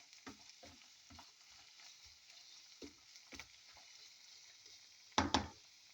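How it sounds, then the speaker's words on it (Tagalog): Bagoong alamang shrimp paste being sautéed with lots of garlic, green chilies and a little chili powder, heard as soft intermittent stirring scrapes over a faint sizzle, with a louder scrape or clatter near the end. "Sauteed bagoong alamang with lots of garlics, green chilies and little bit chili powder."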